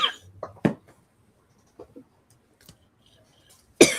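A woman on a live call coughs in a few short, sharp bursts spread across quiet pauses, with soft throat noises in between and a final louder cough at the end.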